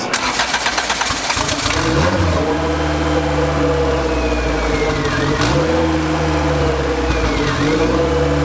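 A turbocharged LS VTEC car engine runs loud and steady on a dyno, its throttle dipping and swelling again in repeated rev cycles.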